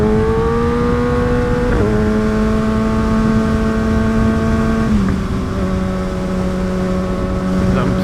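A 2023 Kawasaki ZX6R's inline engine hums steadily while riding, loud and close, with tone steps at gear changes and constant wind noise underneath.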